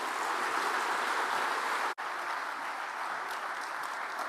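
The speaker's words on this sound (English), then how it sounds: "A good round of applause for him." Sustained applause from the audience after a speech at the AmCham Business Summit in Nairobi, a dense, even wash of clapping with a momentary dropout midway, fairly distant and steady.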